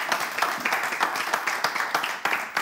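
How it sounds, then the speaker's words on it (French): Applause in a radio show studio welcoming a guest, a small group clapping briskly for a few seconds with distinct claps audible, fairly close and moderately loud. "Mon Dieu, applaudissez ma chère Martha."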